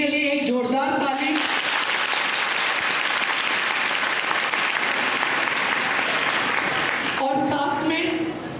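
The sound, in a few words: audience applause at a college event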